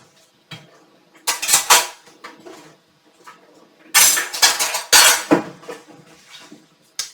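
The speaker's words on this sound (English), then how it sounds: "So I'm going to take my 1/2 cup measuring cup, grab a spoon" A spoon scoops cream cheese into a half-cup measuring cup, making a few bursts of close scraping and clinking separated by quiet pauses.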